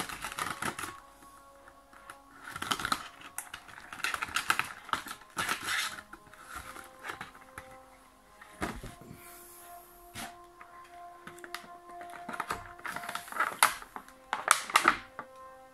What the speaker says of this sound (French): Comme d'habitude, muni de votre couteau pour enlever les scotch.